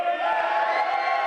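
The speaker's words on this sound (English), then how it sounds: "Getting some applause and some approval from some of the fans here" Wrestling fans at a live showcase match let out a brief, steady burst of cheering and crowd noise.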